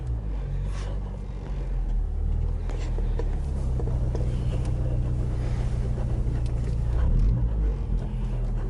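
A Mazdaspeed3 rolling out of a garage, its low engine rumble and road noise steady and close throughout, with people talking over it inside the cabin.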